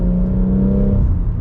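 A stage 2 tuned BMW M140i engine holds a deep, loud rev from inside the car, a brief droning growl with a strong low tone that eases slightly near the end.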